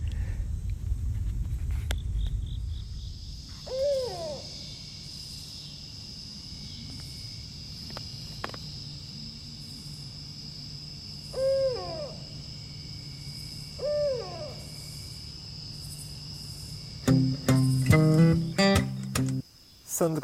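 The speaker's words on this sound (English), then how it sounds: "Seems I've got some owl neighbors tonight." Owls hoot at dusk along the C&O Canal Towpath, with several clear, moderately near hooting phrases spaced through a quiet evening with faint insects and a few soft footsteps or rustles.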